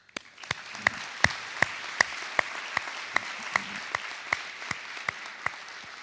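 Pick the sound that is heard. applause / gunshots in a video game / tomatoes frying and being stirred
applause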